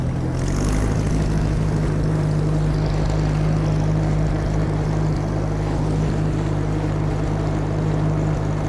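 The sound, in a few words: Oliver tractor engine running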